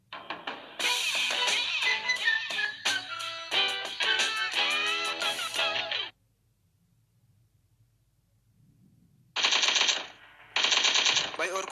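Automatic gunfire in a battle royale video game rattles in loud rapid bursts for several seconds, falls quiet, then returns in two short sharp volleys.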